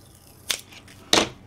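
Two sharp snips of scissors cutting through mini decorative carrots during a craft project, spaced about half a second apart against a quiet background.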